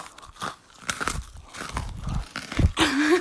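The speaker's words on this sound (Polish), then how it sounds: "to na 3, 4 chrupiemy do mikrofonu" Snacks crunched right up against a microphone in a bedroom set up like a campsite: a run of loud, close crisp bites and chewing, then a crinkle of a wrapper near the end.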